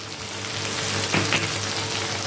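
Ground coriander, cumin powder, salt and turmeric sauté in oil for a spicy crab curry, giving a dense, even sizzle with one brief stirring scrape midway.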